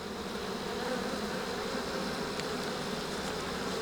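Honey bees buzzing around an open hive during a swarm-cell inspection, a continuous, close drone of many wings holding steady and fairly soft for a few seconds, with no talking.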